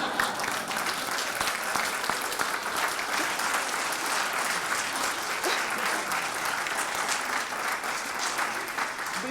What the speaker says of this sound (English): Can I have more clapping?